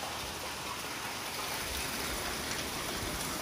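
Water running down a stone channel at the old mill of Kobayat, flowing toward the wheel; a steady, dense rushing wash heard close and alone, with no pauses.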